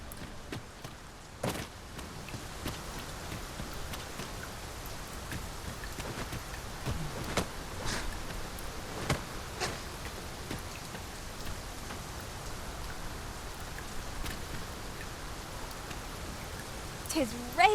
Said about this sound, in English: Tis raining.